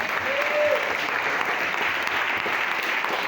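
A church congregation applauds the Lord during a service, with dense, steady clapping that fills the space at an even level for a few seconds, no talk on top.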